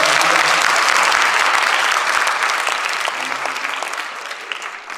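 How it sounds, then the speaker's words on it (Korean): A church congregation applauds together during a joyful worship service, a dense, loud wash of clapping that carries steadily and fades slightly toward the end. "리뉴 제너레이션 박수 한번 하십시다."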